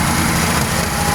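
A 1968 Chevy Camaro engine idles right after its first start in 28 years, giving a steady, loud, close-up rumble with a raspy, busy texture that runs continuously throughout.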